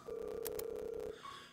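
A telephone in the video game Just Ignore Them: Brea's Story: a steady dial-tone-like beep with two quick dialing blips, then a shorter ringing tone, all loud and close with no talk.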